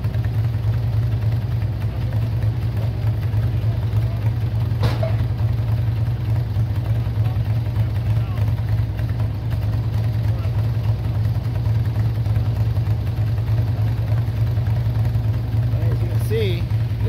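A modified Cub Cadet lawn tractor runs at a lawn and garden tractor pull, its engine giving a steady, loud low drone that holds throughout, with little change in pitch.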